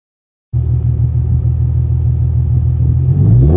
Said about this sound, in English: what you heard there was a full exhaust from headers